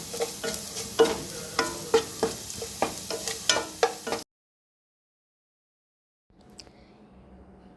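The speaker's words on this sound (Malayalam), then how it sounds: "തേങ്ങ നന്നായിട്ട് വഴറ്റുക" Grated coconut and mustard seeds sauté in a pan: a light sizzle under about a dozen rhythmic scraping stirs of a spoon, then sudden silence before faint kitchen noise returns.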